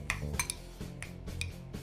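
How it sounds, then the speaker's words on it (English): A spoon mixing honey into cooked ramen noodles, with repeated light clinks and scrapes against a bowl or pot at a steady, uneven pace, close and fairly quiet with no talking. "You want to mix that honey into it."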